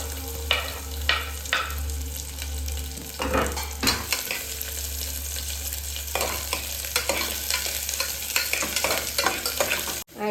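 Onion frying in a little oil for mutton chops, a constant sizzle beneath repeated scraping strokes of a spoon stirring the pan, close and fairly loud.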